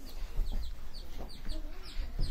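Rapid high-pitched chick cheeping repeats over and over close by, with low rustling and background noise underneath.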